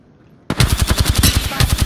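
Automatic gunfire in Apex Legends bursts in loud and close after a brief near-silence, a fast, steady stream of rapid shots that continues to the end.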